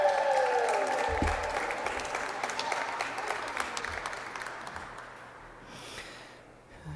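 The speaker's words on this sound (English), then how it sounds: "Big round of applause." An audience applauds youth leaders at a youth mental health event, a dense continuous patter of clapping that fades gradually over several seconds, with no talk over it.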